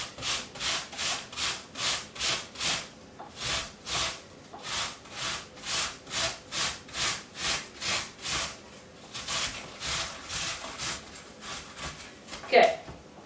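An apple is grated by hand with long, even rasping strokes in a steady back-and-forth rhythm, close and fairly loud. The strokes loosen toward the end before a brief clatter.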